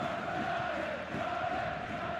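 A football stadium crowd in the PES 2021 game hums at low volume as a steady, distant murmur with a faint sustained tone. No distinct cheers rise above it.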